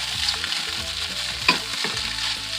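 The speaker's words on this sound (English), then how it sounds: "Now it's time for us to put our rice right there. And let's stir the rice." Egg fried rice being stirred in a hot pan with a spatula, a steady close sizzle of frying rice with scraping strokes and a sharper clatter midway, no talking.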